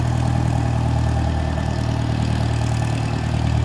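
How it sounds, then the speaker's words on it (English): A light airplane's engine idles steadily while taxiing at Aurora Municipal Airport, a loud, even drone with a low rumble that holds without a break from start to finish. "There she goes, taxiing."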